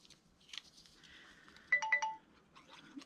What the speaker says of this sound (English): there's my not silenced phone again